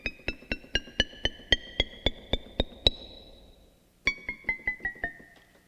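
FM synthesizer operators 3 and 4 layering a bright, plinky inharmonic piano tone: a run of about ten evenly spaced struck notes with ringing metallic partials, a brief pause, then five or six more quick notes, alone and fairly soft.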